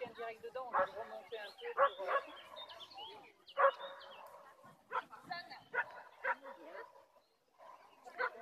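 Border Collie barking and yipping during an agility run, a series of sharp barks at a moderate distance with people talking over and between them.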